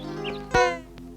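A single short cat meow rises and falls over a steady low background hum, with a sharp click partway through.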